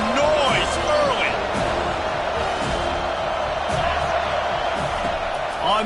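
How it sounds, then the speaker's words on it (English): A packed football stadium crowd roars in a steady, dense wash of noise with occasional whoops rising out of it, while a commentator talks over the din. "This crowd bringing the energy and noise early."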